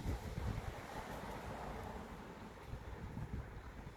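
Wind rushes and buffets the microphone on a cold morning in an asparagus bed, a steady low roaring gust without any voices.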